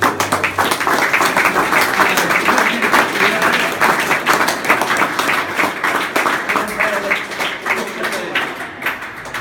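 Loud, sustained applause from a crowd at the Hall of Champions, EIS Sheffield, dense clapping that continues steadily throughout and tapers slightly near the end.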